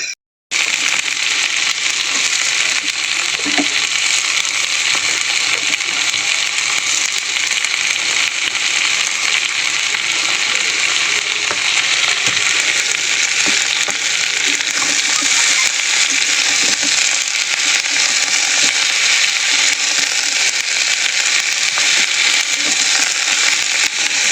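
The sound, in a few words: broccoli, carrots and beans frying in a pan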